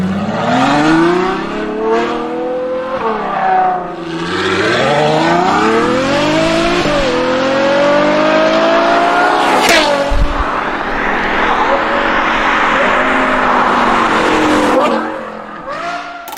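A Ferrari GTC4Lusso V12 engine revs loudly and close, rising and falling through repeated sweeps of pitch with a brief sharp burst near the middle, sustained throughout before easing off at the end.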